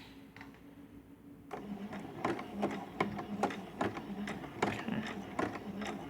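A sewing machine stitches along the edge of a Dresden plate quilt. After a quieter start, a steady run of rapid, evenly spaced mechanical clicks begins and continues close and clear until the end. A single brief spoken word is heard.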